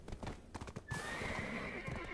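Horse hooves clip-clop in a steady rhythm inside the game Black Desert Online, with a whinny and a brighter, louder stretch of hoofbeats partway through, fairly close and without talk.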